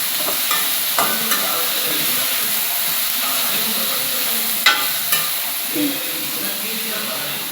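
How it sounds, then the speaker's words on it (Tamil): Ingredients sauté in a pan with a steady loud hiss of frying, broken by a few sharp scrapes and knocks of the stirring spoon against the pan. "இப்போ கிண்டிக்கலாம். நல்லா கிண்டிக்கலாம்."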